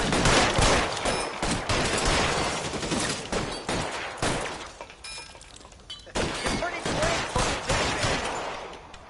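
Gunfire in the L.A. Noire video game: dense, rapid volleys of shots with breaks and shattering hits, loud and close, with shouting voices mixed in.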